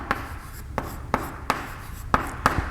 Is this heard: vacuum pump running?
no